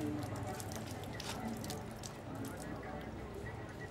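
Water runs steadily from a household tap in a broad, soft hiss, with people talking over it throughout.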